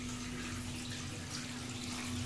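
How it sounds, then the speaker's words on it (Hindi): A drinking-water tap runs steadily as water is filled, a continuous close hiss and rush of flowing water with a low hum beneath and no speech. "पानी चालू हो गया, मुझे पानी भरना है।"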